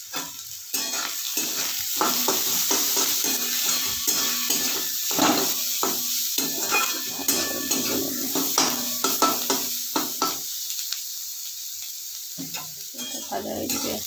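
Onion and green chillies sizzle in a hot pan while a spoon stirs and scrapes them in irregular strokes, close and fairly loud, with a short quieter gap near the end.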